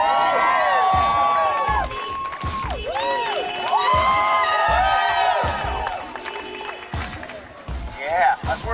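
A crowd at a street march against Monsanto in Cincinnati, Ohio cheers and whoops, with shouts and clapping rising over one another and nearby voices talking throughout.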